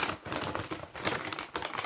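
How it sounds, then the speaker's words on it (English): A bright yellow plastic party bag is rustled and shaken up close, giving a dense, crackling stream of crinkles with short pulses and brief dips, and no voices. "You can do lots of rustling and shaking"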